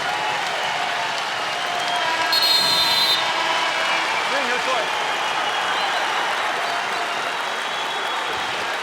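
An arena crowd at an Iowa wrestling match cheers and applauds loudly and steadily, with a brief whistle near the middle. A commentator talks over the roar.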